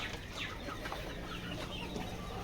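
Chickens clucking steadily while one is being treated with eye drops, a dense continuous farmyard clamor close by with no talk.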